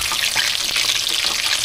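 Chicken frying in oil while a Mang Tomas dish is cooked, a steady, close, dense sizzle with crackling that runs throughout without any talk.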